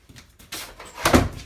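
A service dog pushes a door shut, producing a soft bump and scrape followed by a louder closing thud near the end, close by and brief, with no talk.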